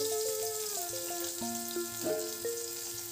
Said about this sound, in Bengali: ডাঁটাটা উচ্ছের সাথে নাড়াচাড়া করে ভেজে দেবো।